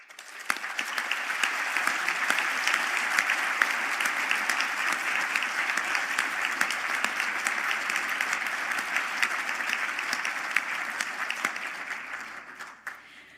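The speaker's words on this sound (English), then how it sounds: "applause." A hall full of people at a Galway university conferring ceremony applauds business graduates, a sustained, even roar of clapping that starts abruptly, holds steady for over ten seconds and fades quickly at the end.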